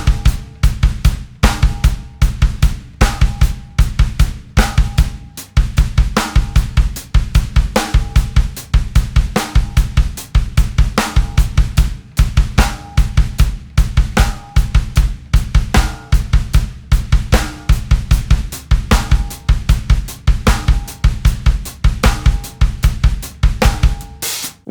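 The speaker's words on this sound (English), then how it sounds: "There are 4 great patterns for working on your triples, and they sound like this." Drum kit playing bass drum triplet patterns, steady loud repeated kick and cymbal strokes in fast groupings over about 25 seconds, with no talking.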